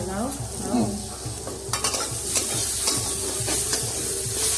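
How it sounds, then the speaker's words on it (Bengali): Spice paste for a Bengali cabbage curry being stir-fried in oil, with a constant close sizzle and busy spatula scraping throughout, alone with no voices. "এই যে মশলাটা কষানো হচ্ছে"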